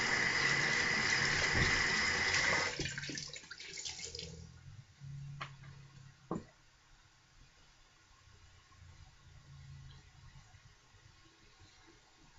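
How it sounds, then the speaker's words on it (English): A tap runs loud and steady for a cold-water rinse after a shave, then cuts off at about three seconds, leaving quiet room tone with a few faint knocks and one sharp clunk. "Cold water rinse."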